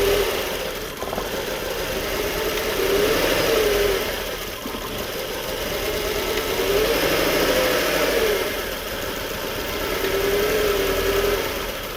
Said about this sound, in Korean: 시동 좀 걸어놓고